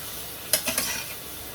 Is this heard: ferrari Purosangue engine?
no